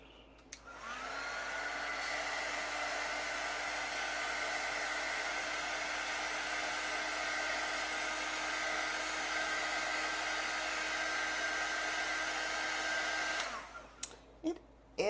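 A hair dryer blows steadily on a thrifted Christmas decor box craft project, a loud continuous whir held close for about thirteen seconds before switching off with a few handling clicks.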